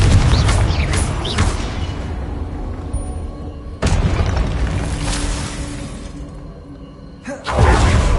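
Confringo blasting spell explosions in a Harry Potter video game, with loud booming bursts near 0, 3.8 and 7.4 seconds, each followed by rumbling debris noise and a shattering crackle.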